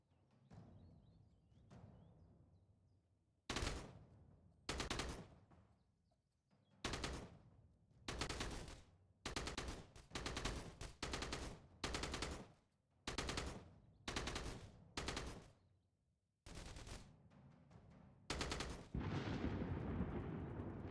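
Repeated bursts of automatic gunfire in a video game, over a dozen loud rapid volleys separated by short pauses, each a dense broadband crackle, ending in a longer sustained burst.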